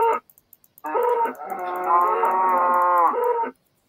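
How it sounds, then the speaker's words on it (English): A blocky cow in the sidescrolling game Paper Minecraft lets out a long, loud, drawn-out electronic moo after a few soft clicks, standing alone with no talk over it. "you're being useful, cow"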